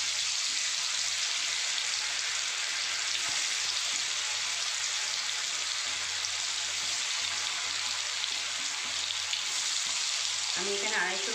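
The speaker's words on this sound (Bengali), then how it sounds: "এখানে আমার তেল গরম হয়ে গেছে। আমি এবার পনিরগুলোকে ভেজে নেব।" Paneer pieces fry in hot oil, a dense, loud and even crackling sizzle held close for the whole stretch, with a brief stir or clatter near the end and no speech.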